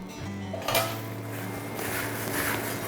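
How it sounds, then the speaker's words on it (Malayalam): A spoon mixes peanut masala with spices in a bowl, making one clear clatter early on, then soft, steady rubbing over a low background hum with no voices. "നന്നായിട്ടൊന്ന് മിക്സാക്കി കൊടുക്കാം"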